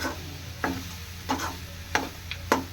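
Mango chitranna rice stirred in a pan on the stove: four or five distinct scraping strokes, roughly evenly spaced, over a soft steady hum, with no speech.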